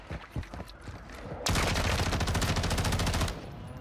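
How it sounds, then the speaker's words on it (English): Rapid automatic gunfire in the shooter video game Warzone, a dense sustained burst of close, loud shots lasting nearly two seconds, preceded by scattered fainter distant shots. "Some gunshots over here to the right."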